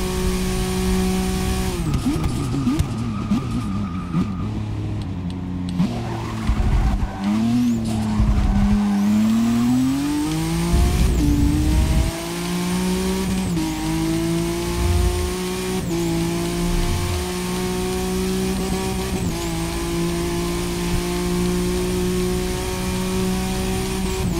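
A 1966 Ford GT race car at Le Mans: its engine revs up and down as it shifts through gears, with tire squeal and skidding in the early part, then a long steady high-rev run, heard close and loud.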